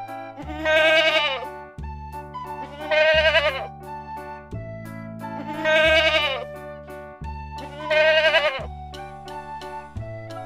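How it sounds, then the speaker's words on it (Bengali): A goat kid bleats four times in long, wavering calls at a steady pace, each one loud and clear over a repeating background music line. "ছাগল ছানা লাফিয়ে চলে"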